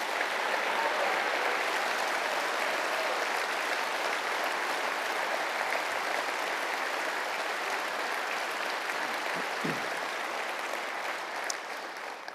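A conference hall audience applauds, a dense, steady wash of clapping that holds throughout and fades only slightly at the end, with no speech on top.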